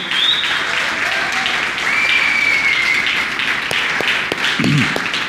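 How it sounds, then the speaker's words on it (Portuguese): A church congregation applauds during a worship service, steady dense clapping sustained throughout at fairly close range, with faint voices mixed in underneath. "dê a Jesus um aplauso maravilhoso em nome do Senhor Jesus"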